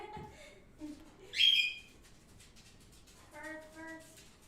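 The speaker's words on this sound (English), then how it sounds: "their birds are really loud." Birds outdoors give a few scattered chirps and whistled calls, one brighter burst in the middle, moderately loud and separated by quiet gaps.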